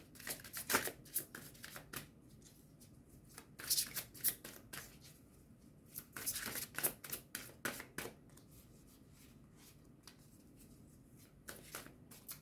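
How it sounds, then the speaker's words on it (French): Oracle cards being shuffled and handled by hand, a series of quick papery riffles and slaps arriving in bursts with short pauses, close and fairly quiet. "je vais prendre 2 cartes de l'oracle de l'amour"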